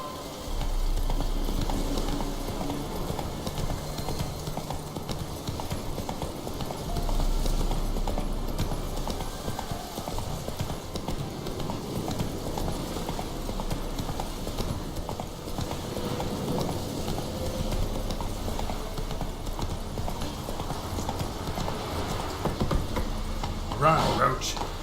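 A horse gallops in The Witcher 3 video game, its hooves clip-clopping in a steady rhythm throughout. Game ambience and a voice run underneath.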